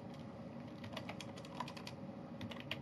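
Quiet, rapid typing on a computer keyboard, a run of soft, irregular key clicks heard close up with no talking.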